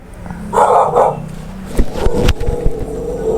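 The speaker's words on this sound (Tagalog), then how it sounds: "May aso pala" A dog barks a few times nearby, short sharp yaps with some background noise and faint movement sounds.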